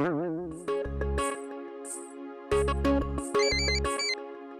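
A phone ringtone plays a melodic electronic tune with bright tones and bursts, close and clear, with no talking.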